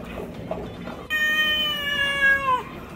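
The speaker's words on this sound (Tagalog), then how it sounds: "Papashatan natin si Leonidas tsaka si Jimmy yung pusa namin." A house cat lets out a single long, drawn-out meow, close and fairly loud, after a moment of low background noise.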